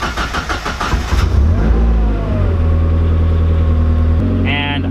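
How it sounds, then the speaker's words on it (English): A Mazdaspeed Miata fitted with a Megasquirt engine management install cranks and catches, then settles into a steady, even idle, recorded up close and loud with no talking. "Now the car should be able to just start up and drive somewhat decent."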